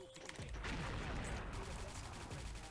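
The Blue Dragon gun in the shooter game XSHOT fires in a rapid, loud burst of gunfire that runs nearly unbroken for about two seconds and then tapers off. A voice speaks briefly around it.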